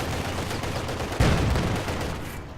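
A T-70 tank firing on a half-track in the Company of Heroes 2 video game, with a dense clatter of gunfire and one heavy shot landing midway through the clip.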